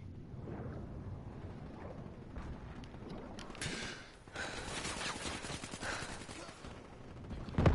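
Rapid gunfire from a first-person shooter video game rattles in dense bursts over a low rumbling game soundtrack, steady throughout and ending with a louder burst.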